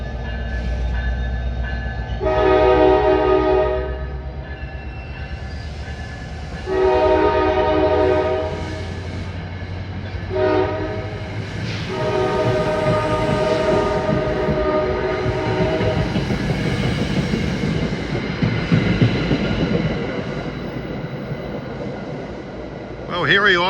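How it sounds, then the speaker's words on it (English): An NJ Transit PL42AC diesel locomotive on the Bergen County line at Ho-Ho-Kus sounds several loud, sustained multi-tone horn blasts over a steady low engine and rail rumble. "We got the big boy pulling us. PL 42AC"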